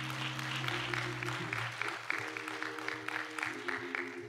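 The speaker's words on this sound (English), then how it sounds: "Let's give this great choir a round of applause" Church audience clapping steadily for several seconds for a choir, over a sustained organ-like tone, with a voice faintly present.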